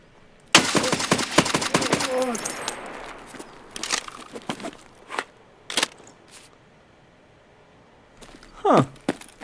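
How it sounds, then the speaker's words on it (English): Gunfire in the video game Escape From Tarkov: a rapid burst of automatic shots rings out near and loud at the start, followed by scattered single shots and clatter, with a player speaking briefly near the end. "Stop shooting, I can't hear"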